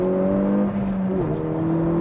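A Peugeot RCZ R's turbocharged 1.6 litre petrol engine pulls hard under acceleration, a steady loud drone from inside the car that dips slightly as it shifts and resumes climbing.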